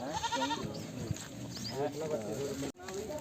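Goats bleat in wavering cries, close by, at a busy goat market, mixed with people talking over them.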